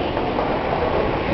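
Line 2 subway train rumbling along the rails, a dense continuous roar heard from close by on a crowded platform or car.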